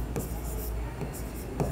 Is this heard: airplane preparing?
no